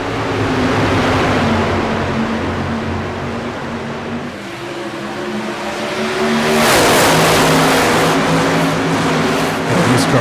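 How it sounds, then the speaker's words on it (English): iRacing Silver Crown race cars at Phoenix exit a turn with a loud, layered engine drone that dips briefly and then surges as they pass close by, with a hissing rush of tires and air. "Cars just on the edge of grip as they exit turn 2."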